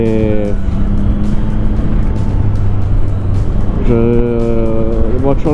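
Triumph Street Triple 660 S motorcycle fitted with an SC Project exhaust, riding on a road: a loud, steady engine drone with rising revs through gear changes near the start and again toward the end.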